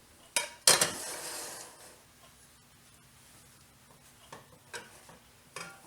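Food being taken out of a pan while making Southern-style banana pudding: two sharp metal-and-dish clatters near the start, then several softer scattered clinks and taps at close range, with no talk.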